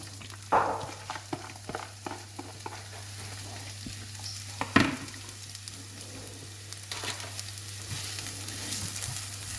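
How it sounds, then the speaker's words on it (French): Onions frying in olive oil in a pan: a soft low sizzle under a steady hum, with a few sharp stirring knocks and clatters, no talking. "on prend une poêle avec de l'huile d'olive, on va faire revenir nos oignons"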